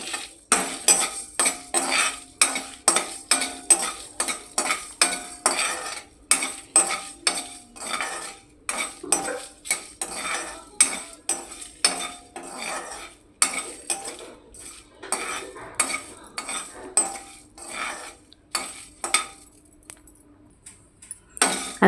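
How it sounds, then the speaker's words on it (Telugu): Cinnamon, cloves and cardamom dry-roast in a pan for a country chicken curry masala, a long run of quick metallic scrapes and clinks from a spoon working against the pan, close and rhythmic with brief pauses, no speech. "దోరగా వేపుకోవాలి."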